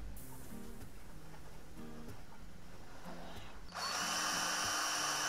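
A power drill whines loudly and steadily while cleaning toy car axles with emery cloth, kicking in abruptly after a stretch of quiet background music.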